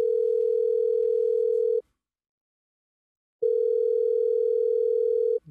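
A VoIP call rings out with a clean, steady electronic ringback tone. It plays for nearly two seconds, goes silent for a moment, then sounds again for about two seconds.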